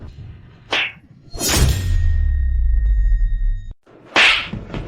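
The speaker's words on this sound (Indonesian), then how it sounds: "Aku akan penuhi 2 tamparan pas." Sharp whip-like slap effects crack loudly in a dramatic scene, with a quick hit early on, another forceful strike followed by a lingering low whoosh, and a final crisp smack.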